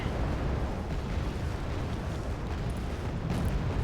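Rumbling artillery fire and explosions from the Wargame Red Dragon battlefield, a dense continuous roar of overlapping blasts with no clear gaps, steady and fairly loud throughout.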